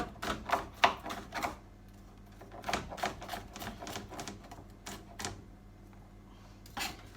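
Knife chopping sausages on a chopping board for a slow-cooker dish: a run of sharp, close knocks in quick bursts, then a pause and a further scattered set of cuts, with no talking.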